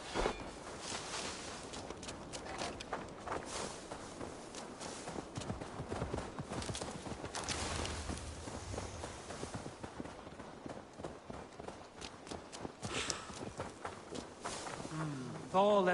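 Faint horse hooves patter beneath a voice speaking in Assassin's Creed Valhalla, with scattered clattering noises in a busy, low-level mix.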